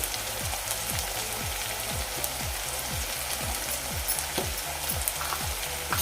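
Asafoetida hits hot oil in a pan while cooking steamed cabbage bhaji, giving a steady close sizzle with a soft hiss and regular scraping stir strokes throughout.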